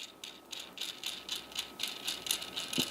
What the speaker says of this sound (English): we need to screw the nut